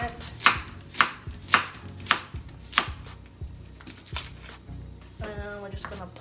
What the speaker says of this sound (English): Put our carrot as well. No need to peel it. You just kind of rough cut it.